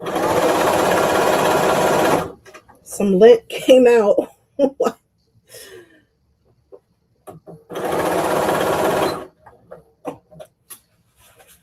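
A sewing machine stitches in two loud, steady whirring bursts, at the start and again later, with a person talking briefly in the quiet gap between them.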